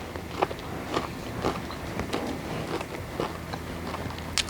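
Someone bites into a crunchy, sugar-rolled malasada up close, a series of quiet crisp crunches and chewing sounds spread over a few seconds.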